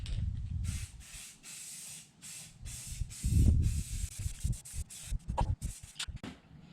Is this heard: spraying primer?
yes